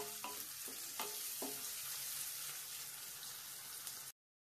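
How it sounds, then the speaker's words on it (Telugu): Salted onion pieces sizzle in a pan for a cucumber curry, a steady close frying hiss with a few clinks of stirring early on, cutting off abruptly near the end. "ఉల్లిపాయ ముక్కలు వేగిపోయినాయండి, ఇది ఎర్రగా వేగిపోయింది కదా"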